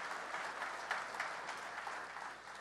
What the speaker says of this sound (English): Give one more round of applause for Brianna and Ellen.